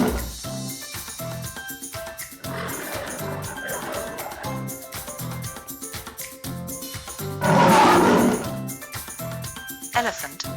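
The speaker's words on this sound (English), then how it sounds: "Lion." A lion lets out one short, loud roar near the end, heard over a bouncy musical backing.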